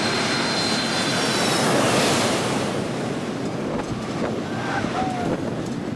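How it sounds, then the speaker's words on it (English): A Qatar Cargo Boeing 747-8 freighter landing at a model airport in a crosswind, its jet roar a steady, broad, loud wash with wind noise running through the whole stretch. "Here it is, a Qatar Cargo 747-8 freighter."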